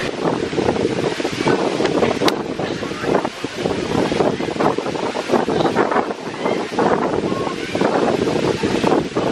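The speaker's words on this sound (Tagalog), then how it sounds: "Hangin. Sobrang hangin." Strong wind on Siargao island roars and buffets the microphone in a loud continuous rush with gusting surges, with the sea faintly underneath.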